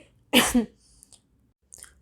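One harsh, close cough from a person with COVID bursts out, followed by quiet breathing and small mouth noises.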